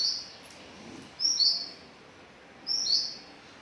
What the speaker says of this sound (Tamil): இதுக்குள்ளார போய் குஞ்சு பொரிச்சிருக்கு